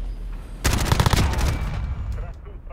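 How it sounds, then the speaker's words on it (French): Rapid automatic gunfire in Call of Duty: Modern Warfare multiplayer night mode, a dense loud burst of shots that breaks in abruptly and then fades into ringing echoes. "mais ça vient d'où ces tirs?"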